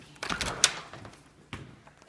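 A door on the way out gives two brief knocks and thuds, one around the first half and another a second later, close and moderately loud with little else around them.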